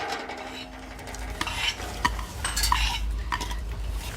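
A utensil stirs chopped chillies into a big bowl of raw omelette mixture made from 120 beaten eggs, giving repeated close scraping and clinking strokes against the container, with no voices.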